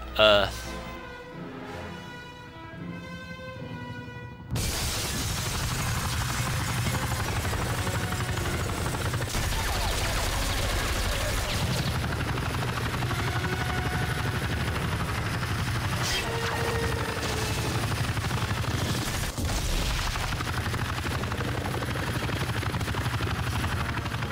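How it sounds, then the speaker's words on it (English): A helicopter boss fight in the video game 007 From Russia With Love: a loud, constant rotor drone runs throughout, punctuated by gunfire bursts and crashes after an abrupt jump in level near the start. "Another boss fight with a helicopter."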